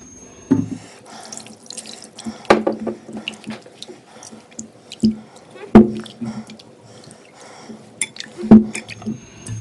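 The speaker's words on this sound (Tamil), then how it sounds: "இதில் கொஞ்சம் தண்ணி விட்டு அதில் ஊற்றிக்கலாம்" Water splashes and sloshes in a bowl of gram flour batter for kara boondhi with intermittent stirring, squishing sounds, close up, in short repeated bursts.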